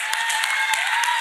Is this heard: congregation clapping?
yes